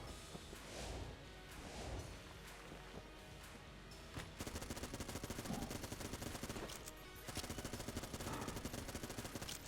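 Dense rapid gunfire from the glass cannon weapon in the Enter the Gungeon video game, loud continuous bursts of shots layered with game music and effects, intensifying into a sustained barrage midway.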